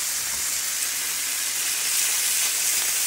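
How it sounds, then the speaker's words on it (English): Ground beef browning in a pan, a steady, close sizzle with a dense, even hiss that holds constant throughout and no voices. "I'm just browning up some ground beef"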